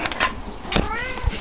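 A cat begging for food gives a few short, close meows, including a rising, drawn-out call near the end, while a person murmurs softly nearby.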